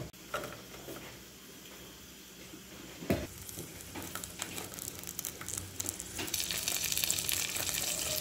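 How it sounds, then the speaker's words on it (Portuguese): Corn and bacon sizzle steadily in a pan on the stove while feijoada is being cooked, with occasional stirring clinks and the frying growing louder toward the end. "Vou deixar o milho dar uma esquentada junto com o bacon aqui e acrescento a farofa."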